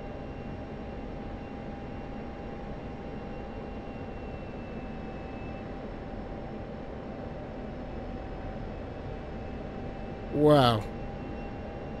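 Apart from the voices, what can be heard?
F-16 Viper jet engine in DCS World video game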